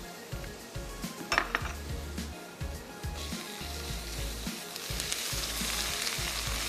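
Spice mixture of crushed roasted cumin, garam masala and salt roasting in a hot pan for Hyderabadi paratha, with a steady close sizzle, clinks of a spoon against the pan, and the frying growing brighter toward the end.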